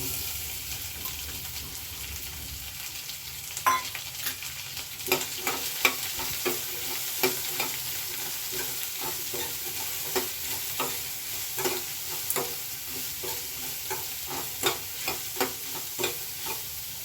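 Onions, green chillies and curry leaves sautéing in a pan for khara paddu, a low continuous sizzle with regular scraping and tapping strokes of a ladle close by.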